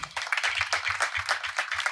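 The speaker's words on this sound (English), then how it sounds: "Well, that deserves a round of applause." A few people in the audience at the opening of a festival fair in The Gambia clapping, quiet, distinct individual claps in an uneven rhythm rather than a full round of applause.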